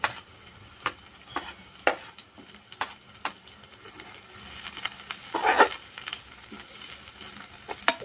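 Mixed vegetables with carrots and cabbage stir-frying in a pan, with regular stirring scrapes and taps over a low sizzle and a brief louder clatter near the end.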